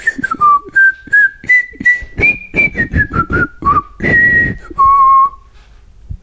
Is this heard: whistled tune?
yes